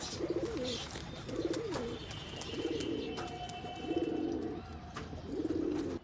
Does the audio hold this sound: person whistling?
no